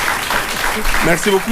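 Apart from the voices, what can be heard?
audience applause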